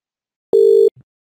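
A single steady phone tone sounds after dialing, clean and close for under half a second, followed by a short faint low blip, with no talking.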